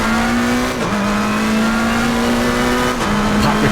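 Race car engines in Assetto Corsa Competizione at Kyalami, a loud, steady high-revving drone with harmonic whine, briefly dipping at two gear shifts before climbing again; no talking.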